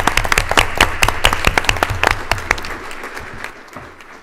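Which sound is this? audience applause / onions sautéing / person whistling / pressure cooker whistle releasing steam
audience applause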